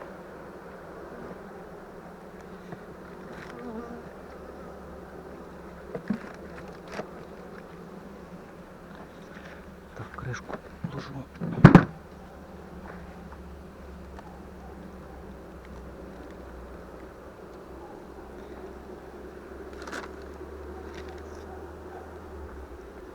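Honeybees in an open hive hum in a low, steady drone throughout, with a few scattered clicks and knocks, one sharper bump near the middle.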